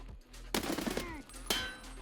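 Gunfire during a night raid in the video game Escape from Tarkov: two sharp, loud bursts of shots about a second apart, each with a ringing tail.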